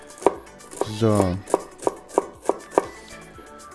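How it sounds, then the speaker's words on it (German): Knife chopping an onion into small cubes on a board, a series of sharp, evenly spaced close taps with a brief scraping slide partway through and a single spoken word near the start. "Und die Zwiebel ebenfalls in kleine Würfel schneiden."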